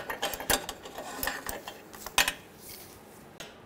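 A ratchet and socket snug down a new downstream O2 oxygen sensor on a 2009-2010 BMW 535i xDrive 3.0L L6, giving a run of close, quick metallic clicks and clinks that ease off near the end.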